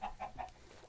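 Short clucking from a chicken in Minecraft, three quick clucks spaced evenly at moderate loudness, with a fainter trailing note after them and no talk over it.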